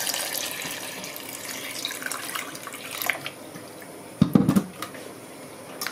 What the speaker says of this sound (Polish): I zalewamy oczywiście zimną wodą.